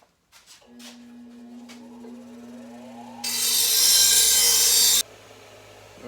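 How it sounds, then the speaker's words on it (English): An angle grinder spins up with a whine, then bites into the edge of an exhaust baffle from a 1985 Harley-Davidson FXR Evo, giving a loud, harsh grinding burst of about two seconds before it stops. "I might just grind this edge off a little bit here."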